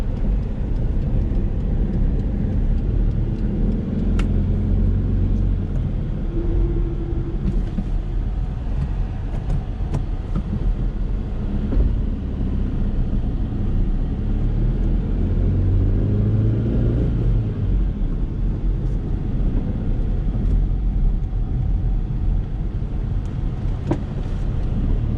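A 2011 Tata Nano car driving with the air conditioning running, a steady loud interior engine and road rumble throughout with no talk.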